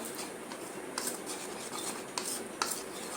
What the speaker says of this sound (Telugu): పేస్ట్ లాకి కలుపుకొని బాగా మిక్స్ చేయాలి దాన్ని